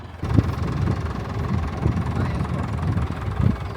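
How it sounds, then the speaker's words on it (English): A tractor engine labors low and heavy, a steady rumbling drone with slight rhythmic surges, close by and continuous. "Even the tractor's struggling now."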